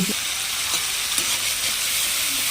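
Vegetables sauté in a hot pan with a continuous loud sizzle and hiss, broken by occasional brief stirring scrapes, with no voices.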